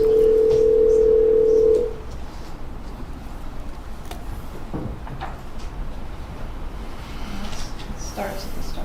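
A steady telephone dial tone plays at close range for about two seconds on a recorded phone call, then cuts off, leaving quiet line noise and faint handling sounds.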